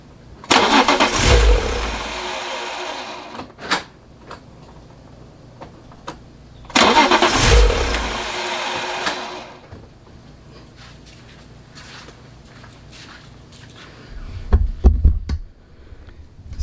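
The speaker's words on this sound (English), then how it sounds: "So it starts the car, but it dies right away." A BMW E36 with an S54 engine swap cranks and fires, then stalls almost at once. The loud start-and-die cycle repeats twice close up, followed by quieter knocks and another brief burst of cranking near the end.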